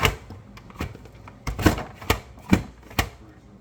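Carrots sliced on a mandoline, a series of sharp, close clacking strokes in an uneven rhythm of about six or seven cuts with small gaps between.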